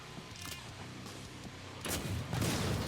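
A blunderbuss fires cannonball rounds in the game Killing Floor 2, with several sharp shots and impacts, the last ones heavier and louder, alongside busy game-combat noise at a moderate level.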